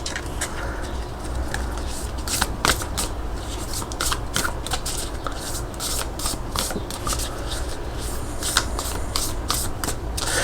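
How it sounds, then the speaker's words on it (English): A tarot card deck is riffle shuffled close up, with quick repeated fluttering bursts of cards snapping together against a soft steady background hiss and no voices. "Oh yeah, you can riffle shuffle."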